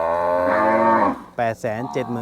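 Cattle moo loudly and close by, one long drawn-out low bellow followed by two shorter calls.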